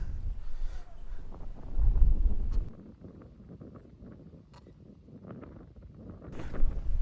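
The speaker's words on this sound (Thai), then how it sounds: "วันนี้ลมแรงนะครับ" Strong wind gusts roar across the mic on a clifftop at Pha Mo I-Daeng in Sisaket, Thailand, loud at first, easing in the middle, then buffeting again.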